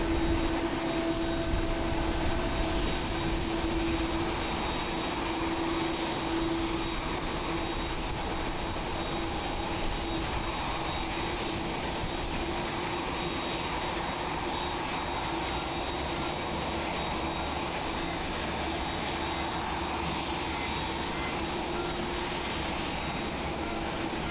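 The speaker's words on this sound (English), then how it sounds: "Arriving on runway 23 is going to be Japan Airlines flight 142 from AOJ. It is a 59-minute flight on Boeing 767-300ER" Japan Airlines Boeing 767-300ER arriving on runway 23 at Tokyo Haneda, a steady, broad jet-engine roar with a faint high whine, sustained and distant-sounding, with no voices.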